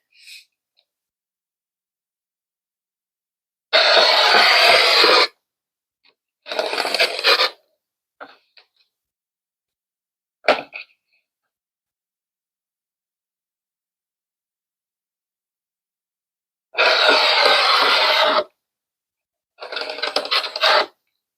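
Fabric pieces for a Stacks quilt block being cut, heard as several separate bursts of crisp rasping slices, two longer strokes and shorter ones, with quiet pauses between and no talking.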